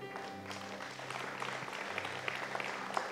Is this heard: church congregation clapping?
yes